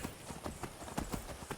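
A horse's hooves clip-clop in Skyrim, with quick, fairly even strikes at a trot or canter that sound soft and slightly distant.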